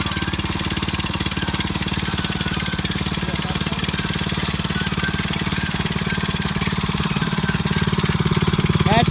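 A 2021 DEEPROCK HD 55 Pro Series water well drilling rig runs close by with a loud, steady, rapidly pulsing engine and mechanical hammering that continues unbroken throughout.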